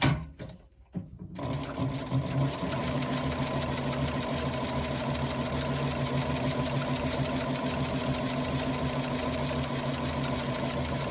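An industrial sewing machine stitching with a steady, continuous mechanical whir and rapid needle rhythm, running after a brief pause at the start.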